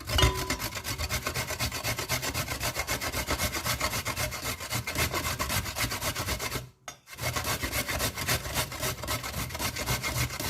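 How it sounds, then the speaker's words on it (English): A whole coconut is rubbed against a hand grater into a bowl, giving a steady, close, raspy scraping that runs continuously with one brief pause partway through. "Now it's time for me to grate the coconut. I have my bowl, then I have a grater."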